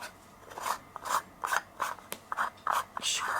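A 55mm Altura wide angle and macro lens has its back cap unscrewed by hand, giving a series of short, close, dry rasping scrapes in an uneven rhythm with brief gaps between turns.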